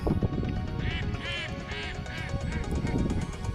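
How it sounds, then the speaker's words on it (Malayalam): Ducks at Al Rafisah Dam near Khor Fakkan quack in a run of about five nasal calls, close and fairly loud over steady outdoor background noise. "ഈ ഒരു താറാവ് കരയുന്ന ഒച്ചയാണ്"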